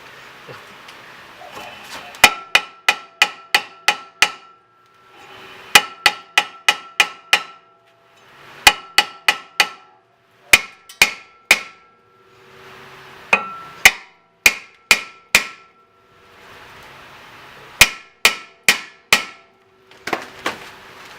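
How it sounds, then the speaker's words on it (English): Metal hammer blows knocking a rusted brake part loose during a brake upgrade on a Honda Prelude, struck in quick bursts of four to six sharp, loud, ringing hits separated by short pauses. "Well, I had to break all the rust loose."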